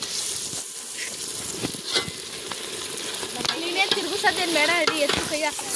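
Ginger, garlic and chili paste frying in a pan, a dense close sizzle with occasional stirring scrapes that grows louder and more crackling toward the end, with faint talk in the background.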